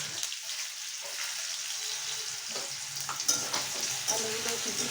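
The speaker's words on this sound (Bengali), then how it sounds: "আলুগুলো কিছু সময় একটু ভেজে নেব।" Potatoes fry in a pan with a constant close sizzle and light stirring clinks, with no voices over it.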